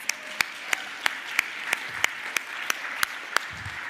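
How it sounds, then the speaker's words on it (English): Applause at the UXPA International 2024 closing keynote, thanking the AV partners, heard as a steady hum of distant clapping punctuated by about a dozen sharp, evenly spaced loud claps nearby. "so let's give them a round of applause"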